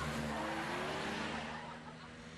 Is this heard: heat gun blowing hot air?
no